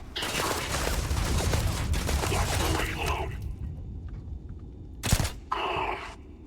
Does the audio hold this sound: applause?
no